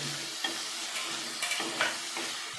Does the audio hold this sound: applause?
no